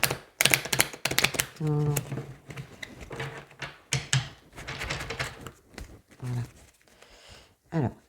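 Tarot cards are shuffled by hand in a rapid, crisp clatter of overlapping taps and riffles, interrupted by pauses. Someone speaks briefly in French over parts of the shuffling.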